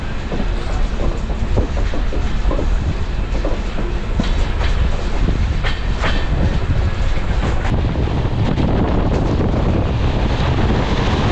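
Jamnagar–Tirunelveli Express running late on the Konkan Railway toward Sangameshwar, heard from aboard as a loud, continuous rumble of wheels and carriages with steady wind buffeting throughout and no voices.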